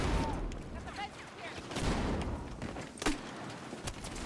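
A frag grenade explosion and gunfire in Battlefield 6 on the Hagental Base map: scattered shots over a busy backdrop, then a sharp blast near the three-second mark.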